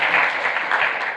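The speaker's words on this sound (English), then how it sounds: "so let's give him a round of applause." Audience applause for a speaker opening a session at a programming-languages conference, a brief burst of many hands clapping in a large room, dense and steady.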